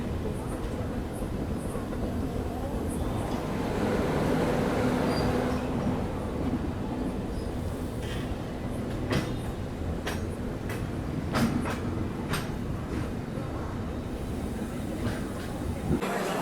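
Steady rumble of the Narayanadri Superfast Express, Lingampalli to Tirupati, running at speed on a high-speed section past Tenali, with continuous wheel and track noise and scattered sharp clicks and rattles throughout.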